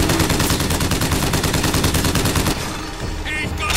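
Rapid automatic gunfire from the video game Bioshock Infinite, loud and continuous bursts for most of the stretch before easing into quieter in-game sounds.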